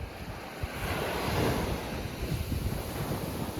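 Sea waves wash against the shore during coastal fishing, a steady rushing surf with wind buffeting the microphone, close and continuous without voices.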